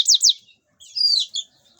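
A domestic canary chirps: two quick, bright chirps, then a short rising warble after a brief pause, close and clear against silence.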